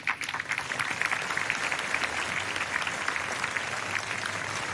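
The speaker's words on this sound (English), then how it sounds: "Let's give it another round of applause to Sister Nehli." A large audience at a 2024 Zayed Award for Human Fraternity ceremony applauds steadily, a dense, even wash of clapping with no voices on top.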